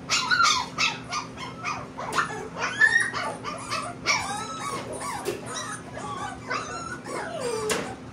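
Pomeranian and Shih Tzu puppies for sale at a rainy outdoor market yip, whimper and bark almost nonstop, several small dogs close by over a low background hum.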